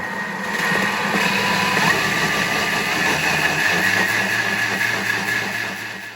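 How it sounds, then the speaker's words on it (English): A machine grinds amaranth grain for bread, a steady motor whir with a high tonal hum that holds for several seconds before easing slightly at the end. "takes time to grind the amaranth"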